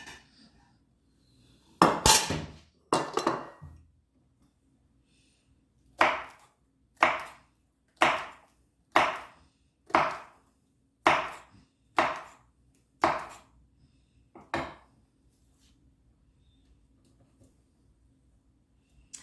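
A kitchen knife chops green onions on a cutting board: a couple of quick cuts, then a steady run of about nine crisp, evenly spaced thuds, close and clear in a quiet room.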